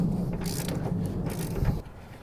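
Ratchet tightening a nut on a Jeep XJ engine mount with a 4.0 automatic drivetrain: close, rough ratcheting clicks and metal scraping in quick uneven strokes, fairly loud, then a sudden drop to quiet.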